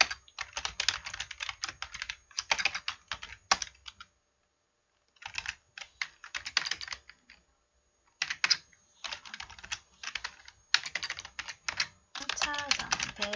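Keys clatter in fast bursts of typing on a computer keyboard, entering Korean and English text for a computer skills exam practice, close and crisp, pausing briefly between runs, with occasional speech-like sounds mixed in.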